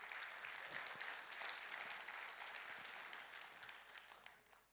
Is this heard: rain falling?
no